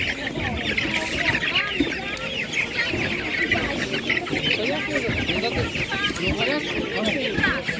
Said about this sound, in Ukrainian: І гарні курочки, не знаю чому.